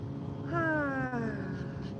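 A single drawn-out cat meow, close and clear, rises and then falls in pitch over about a second against a quiet indoor background.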